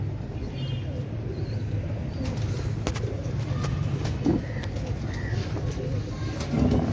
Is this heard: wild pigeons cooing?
yes